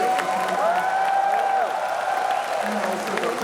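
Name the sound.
audience applause for forum panelists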